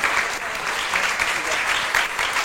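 An audience at a French televised debate show applauds a departing guest, a steady dense wash of many hands clapping at even loudness throughout, with no voices standing out above it.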